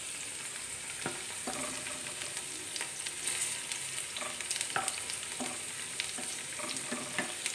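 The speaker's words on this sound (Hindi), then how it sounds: "आपको तब तक इस तरह से पकाना है जब तक कि भिंडी थोड़ी सॉफ्ट ना हो जाए" Okra fries in mustard oil with garlic, giving a continuous hissing sizzle broken by regular scraping clicks of a spoon stirring the pan up close.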